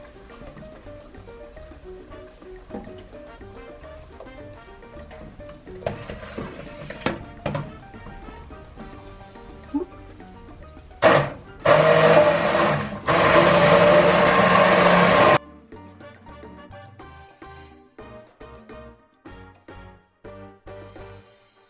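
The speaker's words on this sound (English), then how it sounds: "I'm gonna add in the thickening agent now as I blend it" A stick blender whirs loudly through a Peruvian sauce for chicken in a pot while a thickening agent goes in, one dense roaring burst of about four seconds following a stretch of quieter kitchen clatter and trickling.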